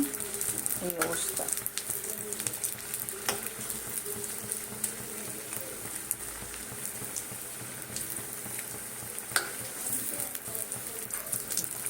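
Potato chops (aloo chop) fry in overheated oil with a continuous bright, crackling sizzle and occasional sharp pops. No one speaks over the frying.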